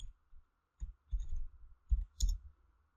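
A handful of computer keyboard key presses while typing code, isolated crisp clicks close by in an otherwise quiet room, spaced irregularly with a short cluster near the end.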